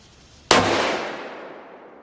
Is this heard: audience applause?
no